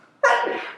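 A single sharp, loud sneeze, sudden and close, breaking a moment of near quiet.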